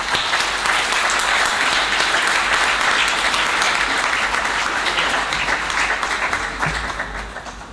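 Loud, sustained audience applause in a lecture hall after a conference talk. Dense clapping fills the room at full strength and tapers off in the final second, with a low hum beneath it.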